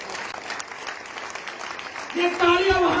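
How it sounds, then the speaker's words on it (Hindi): Audience at a Brahmin community gathering applauding, a steady wash of clapping that swells louder near the end, with a voice speaking over it. "तालियां बंदनी होनी चाहिए, जोर से तालियां।"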